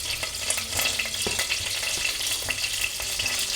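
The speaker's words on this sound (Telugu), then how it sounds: "ఇప్పుడు కట్ చేసిన ఉల్లిపాయ ముక్కలు వేసుకుంటున్నాను" Chopped onions fry in about three spoons of oil in a pan for potato curry, a steady close sizzle with occasional stirring scrapes and small pops throughout.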